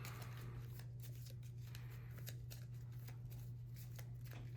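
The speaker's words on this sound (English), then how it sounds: "Let me shuffle these a little bit better." Wingspan board game cards are shuffled by hand in quick, crisp riffles and flutters, close and fairly quiet over a low background hum, with no talk.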